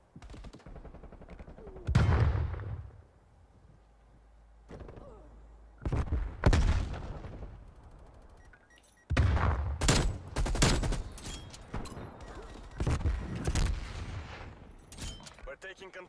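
Gunfire in a Call of Duty Black Ops Cold War deathmatch, with loud, sharp bursts and single shots breaking up quieter stretches. A cluster of rapid fire lands near the end, with faint background game noise between the shots.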